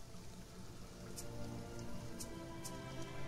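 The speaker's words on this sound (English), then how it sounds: "But we do have some rain." Rain falls steadily in the survival video game Sheltered, a soft continuous patter with a few sharper drip-like ticks, faint and without voices.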